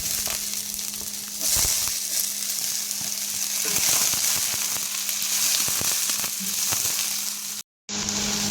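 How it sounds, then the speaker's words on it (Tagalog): Onion sautés in heated oil for green beans, a continuous loud crackling sizzle with occasional pops and stirring knocks, close up, with a brief dropout near the end. "So guys, nagpainit na ako ng ating oil. So unahin ko na guys yung ating onion."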